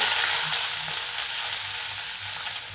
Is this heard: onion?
yes